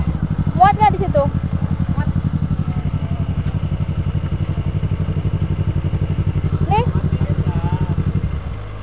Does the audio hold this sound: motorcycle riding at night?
yes